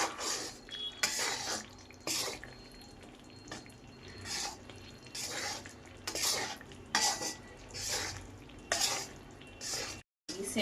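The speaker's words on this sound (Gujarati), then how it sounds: "મિક્સ મેથી સરસ મિક્સ થઈ ગઈ છે હવે" Fenugreek stirred into a sugar syrup in a pan for laddu, repeated metal spoon scrapes and clanks against the pan in irregular bursts over a low background, close and moderately loud.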